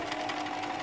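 A Bernina Bernette 740e sewing machine runs a straight stitch through a double-folded skirt, giving a steady, fast mechanical whir up close for under a second.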